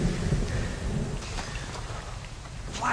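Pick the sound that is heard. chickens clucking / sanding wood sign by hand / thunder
thunder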